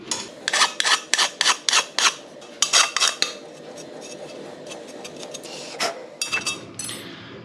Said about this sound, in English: I'm gonna take a file and file some of that sharp edge off.